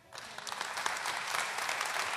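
Audience at a storytelling talk about farm life breaks into applause, a dense wash of clapping that starts abruptly and holds steady from many hands in a hall.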